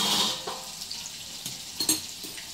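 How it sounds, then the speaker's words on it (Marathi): Green chilies and curry leaves sizzling in hot oil for a tempering, a close frying crackle with scattered stirring clatter from a spoon against the pan. "मिरची आणि कढीपत्त्याची फोडणी"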